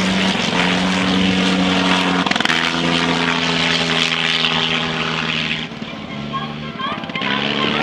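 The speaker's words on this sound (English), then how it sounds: "We're going to take our mind off these planes above us right here." Vintage propeller planes at an air show drone steadily overhead, a loud, continuous engine hum with shifting pitch as they pass, while someone talks over the noise.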